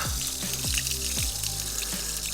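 Water gushes from an opened tap on a tank being emptied during building work, a steady rushing flow with gurgling surges, close and continuous.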